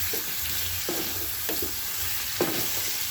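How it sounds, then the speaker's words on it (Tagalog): Tomato and pre-softened pork ribs sautéing for pochero, with a steady sizzle in the pan and a few short stirring scrapes and clacks against it, close and alone. "Ayan, lagay ko na yung ribs."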